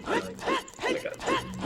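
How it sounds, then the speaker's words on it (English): Dogs in The Legend of Zelda: Ocarina of Time on the Nintendo 64 give about three short, close, repeated yelps and barks in a steady rhythm, each burst separated by a brief gap. "I pushed the dogs."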